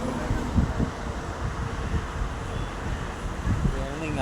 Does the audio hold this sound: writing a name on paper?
no